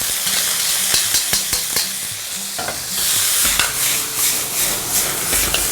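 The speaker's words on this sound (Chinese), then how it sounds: "快速的翻炒起来。" Green beans hit a hot wok already fragrant with ginger, garlic, scallion, dried chili and Sichuan peppercorns, and are stir-fried fast: a loud, close sizzle with rapid scraping and tossing clatter, surging brighter midway, without any speech.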